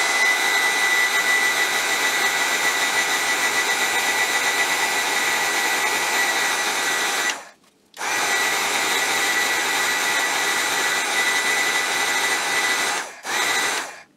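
A heat gun blows steadily and loud at close range while shrinking wrinkled covering film on a model build, a continuous broadband roar that cuts out briefly twice before resuming.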